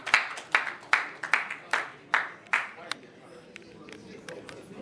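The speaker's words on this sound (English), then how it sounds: "A round of applause for Dr. Modupe Oko, please." A short burst of separate, sharp hand claps at an association's annual general meeting in Lagos, about eight in an uneven rhythm, fading to a scattered few at the end.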